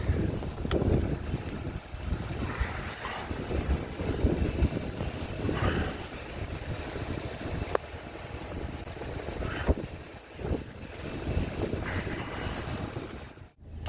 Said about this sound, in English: very windy at Glencoe Boating Club